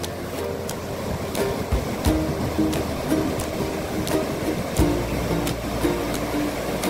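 Sea waves wash steadily onto a shore where people are fishing, a continuous rushing surf with periodic swells and splashes, fairly close and with no voices.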